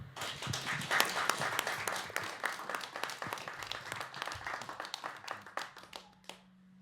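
An audience claps and cheers for a band at an open mic, steady dense applause filling several seconds before thinning into scattered claps and fading out.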